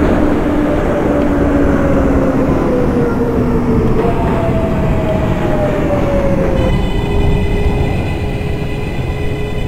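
A loud New York City BMT 14th Street subway train in a train simulator game rumbling along at speed, with whining motor tones sliding in pitch over a constant heavy roar.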